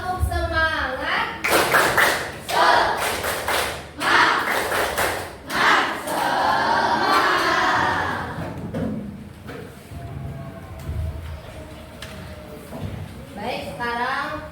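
A school class claps a rhythmic tepuk semangat pattern, bursts of loud patterned clapping and thumps in quick groups, with children's voices and a teacher's voice between and over the beats.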